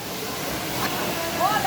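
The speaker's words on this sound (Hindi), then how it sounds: "ये पानी गिरने की आवाज़ आ रही है, इसे फील कीजिए।" A hidden waterfall near Nainital gives off a steady, close roar of falling water that fills the whole stretch, with a faint voice briefly showing near the end.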